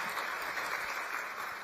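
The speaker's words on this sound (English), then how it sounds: "can we have another round of applause for Le Whionga Tuatangaloa" Brief burst of sustained clapping from a conference audience at an opening plenary session, a soft, even patter of many hands with no talking.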